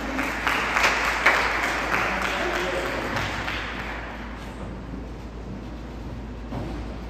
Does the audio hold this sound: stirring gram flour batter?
no